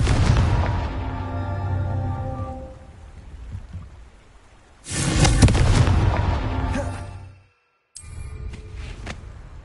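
A Confringo fire-blast spell explodes in Hogwarts Legacy: a loud booming burst that fades out, then a second sharp blast about halfway through, followed by a brief cut and crackling tail.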